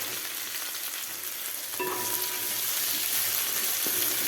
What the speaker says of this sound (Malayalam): ഇഞ്ചി, വെളുത്തുള്ളി, പച്ചമുളകും നന്നായിട്ടൊന്ന് മൂത്ത് വരട്ടാം